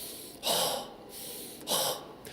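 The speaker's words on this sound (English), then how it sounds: "So breathing in through your nose," Two quick breaths drawn in through the nose during a singing warm-up, close and soft, each a short airy sniff with a brief pause between and no speech.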